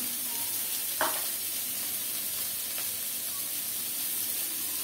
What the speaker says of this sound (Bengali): হলুদ দিলাম, কুচানো কাঁচামরিচ দিলাম